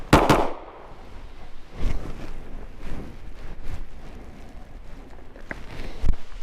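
Handgun shots fired outdoors by a shooter in a winter vest: a loud crack at the start, then several fainter sharp reports spaced about a second apart, with wind and rustling between them.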